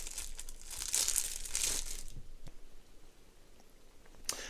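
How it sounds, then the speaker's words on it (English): A small crinkly plastic bag holding 1/12 scale figure capes is being opened, giving a close burst of crumpling and tearing, then quieter scattered crinkles and clicks, with no talking. "They come in these little plastic bags. I always struggle finding the part that you open."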